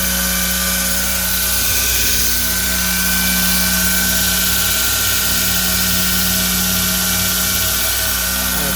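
A 2x72 belt grinder fitted to a surface grinder runs flat out at full speed, a loud, steady roaring whine with a constant hum and no pauses. No one talks.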